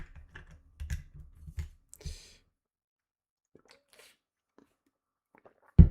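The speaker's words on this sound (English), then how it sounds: "I'm just hitting random shortcuts because it's a MacBook keyboard" Clicky keystrokes on a MacBook keyboard as shortcuts get hit in quick bursts over the first two seconds, then fall to a few scattered faint taps, ending in one sharp louder knock.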